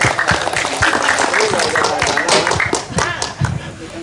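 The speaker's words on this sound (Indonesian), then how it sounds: "Baik, tepuk tangan," A seated crowd at a community forum for neighbourhood association candidates gives a short round of clapping, uneven claps and taps mixed with nearby talking and murmuring voices.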